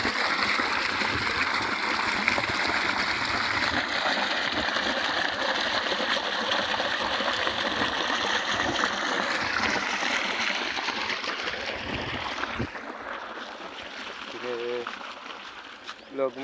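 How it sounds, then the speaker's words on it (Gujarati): Water gushes steadily into a farm field, a continuous rushing, trickling flow heard up close throughout, with a brief shift in tone near the end. "આટલું પાણી આવે છે।"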